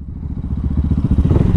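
A Honda PCX 160 scooter and a Motorstar Explorer 250 version 2 motorcycle idle and rev nearby, a loud, steady low engine throb with rhythmic pulsing that rises slightly toward the end, with no talk over it.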